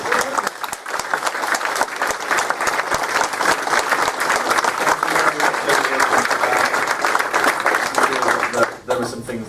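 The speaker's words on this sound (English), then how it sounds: "Round of applause for these." Audience at a rare panel session at the Revival 2018 event breaks into sustained applause, a dense wash of many hands clapping for the whole stretch before fading out at the very end.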